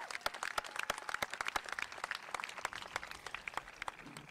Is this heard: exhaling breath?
no